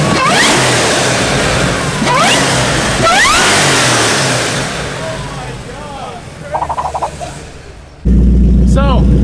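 Built fifth-generation Camaro ZL1 engine revving hard and loud, repeated rising pulls close by, then a lower choppy idle before a sudden loud roar at the end, with voices heard under the engine.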